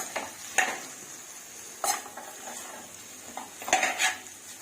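Spicy mutton fries on low heat with curry leaves, a spoon scraping and stirring in the pan every second or so over a steady sizzle, close and clear.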